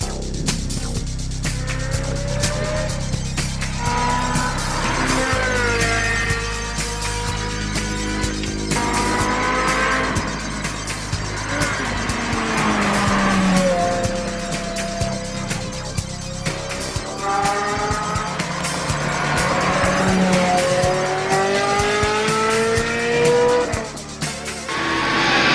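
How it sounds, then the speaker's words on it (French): A car races at high speed in a K2000-style action scene, its engine roaring steadily with rising and falling revs and tire squeal, loud and close throughout, with no one talking. "un véhicule se dirige vers nous à grande vitesse"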